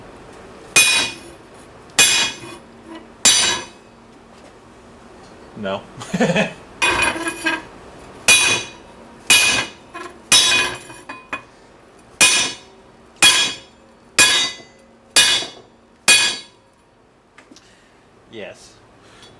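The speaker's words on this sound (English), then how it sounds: "I'm worried about smashing my light with a hammer." Repeated sharp metallic hammer blows on motorcycle front forks, about a dozen loud ringing strikes spaced roughly a second apart, with people talking in between.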